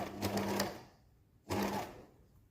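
Binding is sewn onto a quilted waistcoat with a sewing machine in two short, quiet bursts of whirring stitching, separated by a brief pause.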